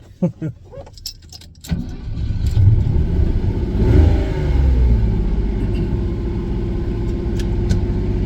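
A Lamborghini Countach engine starting on a chilly Colorado winter morning: a few clicks and key rattles, then the engine catches with a loud rising roar that settles into a deep, steady close-up idle rumble.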